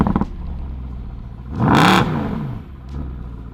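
A Mercedes SLS with a naturally aspirated 6.2-litre V8 gives a single sharp rev that swells and falls back to idle, close by, with a brief blip at the start and end.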